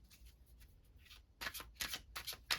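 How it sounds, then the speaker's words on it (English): A deck of playing cards is shuffled in a few quick, crisp riffling bursts that follow a quiet stretch, moderately close and without speech. "this deck was so easy to shuffle"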